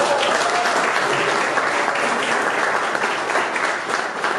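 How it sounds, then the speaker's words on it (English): Applause from an outdoor opening-night crowd for local Market Street businesses, a dense, even wash of many hands clapping that holds steady throughout at moderate distance. "Let's give them a big round of applause."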